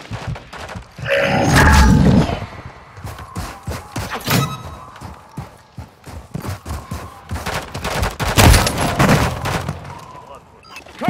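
Gunfire bursts in the Call of Duty: Modern Warfare III video game, loud rapid shots and thuds crowding the whole stretch, with a heavy cluster early and another near the end, while players call out over the action.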